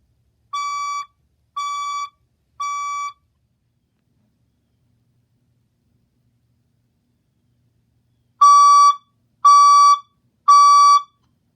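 A building fire alarm gives three short tones, goes silent for several seconds, then repeats three louder tones. The sound is steady and electronic, with no talking.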